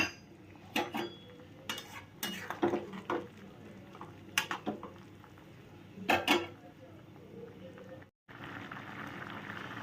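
Poppy seed paste is stirred into a papaya curry in a pan, with scattered metallic scrapes and clinks of a spoon over a soft, steady sizzle and bubbling, then a brief pause.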